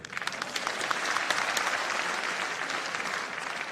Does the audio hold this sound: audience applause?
yes